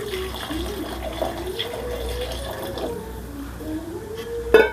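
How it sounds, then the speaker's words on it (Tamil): Water is poured into a pot of chicken salna, a chicken curry, making a steady close gushing and splashing wash that runs throughout, with a faint voice underneath. "அதுக்குண்டான தண்ணியை சேர்த்துக்குவோம்."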